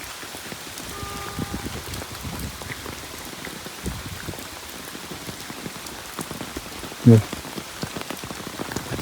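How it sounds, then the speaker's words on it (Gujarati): Heavy rain falls all around, a dense steady patter of drops on surfaces, close and constant, with a brief louder knock near the end and no talking. "બધી બાજુ વરસાદ પડ્યો"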